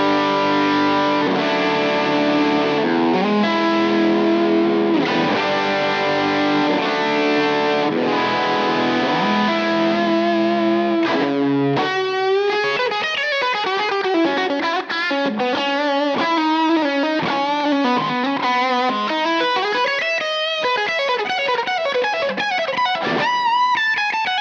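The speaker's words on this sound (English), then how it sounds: "Now I'm just going to go to some dirty tones and just prioritise the humbucking pickups on this one." PRS electric guitar played with distorted, dirty tones through humbucking pickups: sustained overdriven chords at first, then faster picked riffs and single notes, loud and continuous with no talking.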